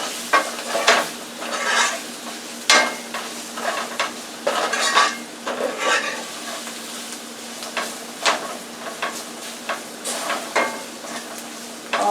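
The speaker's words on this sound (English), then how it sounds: "I'm going to add that to the onions. Okay, and we're going to mix that in." A utensil scrapes and stirs a beef gravy mixture into onions in a pot, with soft sizzling beneath and repeated sharp scraping strokes at an uneven pace, close and fairly loud.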